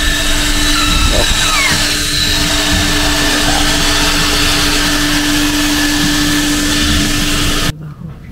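A vacuum cleaner runs continuously while the interior of a car is cleaned, a steady loud motor whine and airy suction roar that holds for several seconds before cutting off abruptly near the end.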